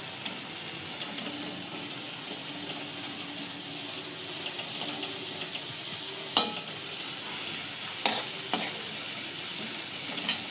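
Green onion fries in a pan for a quick sabzi, a faint, even hiss of frying with occasional sharp spatula clicks against the pan.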